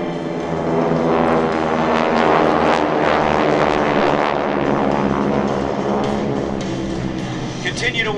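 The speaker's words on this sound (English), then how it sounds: "Continue to watch the aircraft overhead as they rejoin" A six-plane formation of GEICO Skytypers propeller aircraft passes overhead at the 2012 Andrews AFB airshow, a loud, continuous droning roar that holds steady throughout and swells slightly in the middle.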